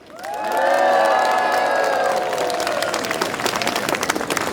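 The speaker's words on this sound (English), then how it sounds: "Please give him a big applause." An outdoor Tibetan rally crowd breaks into loud applause with cheering and whoops. The shouts rise at first, then the clapping continues strongly to the end.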